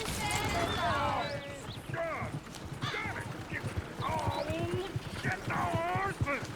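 Horses and a stagecoach in Red Dead Redemption 2, clip-clopping hooves and rolling movement close by, continuous and busy beneath overlapping voices.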